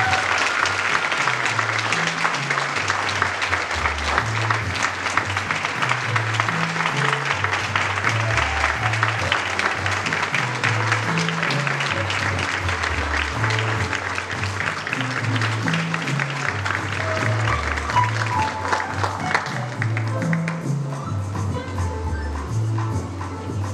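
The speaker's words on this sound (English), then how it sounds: "Give them one more round of applause." Sustained applause from a summit audience at Portland State University, cheering pitch-fest finalists as they return to the stage. It is loud and continuous clapping that fills the room for the whole stretch, with a faint low rhythmic thump underneath.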